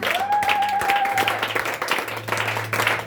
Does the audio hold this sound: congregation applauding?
yes